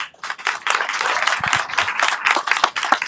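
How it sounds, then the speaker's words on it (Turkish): Clapping breaks out from a school audience after a child recites a poem at a Turkish Republic centennial celebration, a lively burst of many hands with some sharp individual claps standing out near the front. "alkışlar Alperen için geldi"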